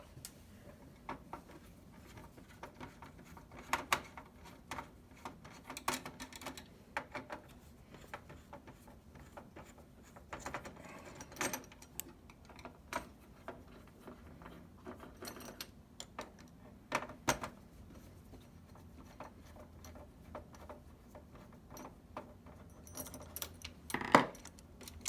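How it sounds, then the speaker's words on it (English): Small metallic clicks and ticks of screws being loosened and pulled from a PS4 Pro console, sparse and quiet, with occasional light taps of parts being set down in a faint room. "Now we're gonna remove these screws."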